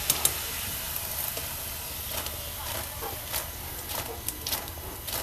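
Modak dumplings fry in hot oil with a continuous soft sizzle and hiss, punctuated by small crackles and pops. The sound stays fairly quiet and steady.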